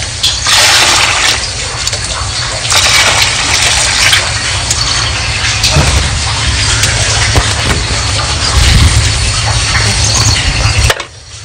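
Water gushes loudly and steadily into a container being filled, a broad continuous rush with a low hum beneath, surging in a few waves before stopping suddenly at the end.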